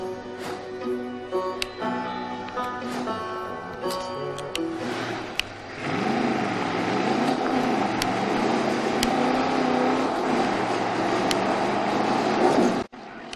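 A car speeds along in the Far Cry video game, a steady engine drone rising in pitch and holding loud over a background music bed, ending abruptly.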